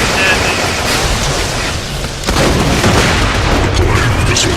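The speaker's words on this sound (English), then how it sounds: "Deploying missiles. This thing shoots like missiles." A turret firing missiles in the video game Borderlands: loud, continuous rumbling booms and blasts filling the whole stretch, with a brief dip before the barrage surges again.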